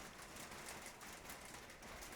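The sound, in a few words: rain falling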